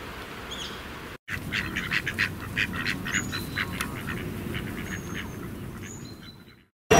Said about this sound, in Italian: a queste anatre.